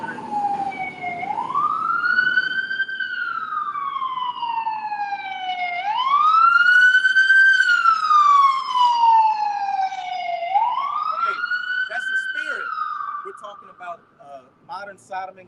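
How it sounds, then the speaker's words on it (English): A fire truck siren wails loudly in slow rising and falling sweeps as the vehicle passes nearby, fading toward the end with faint voices in the background. "a fire truck just passed"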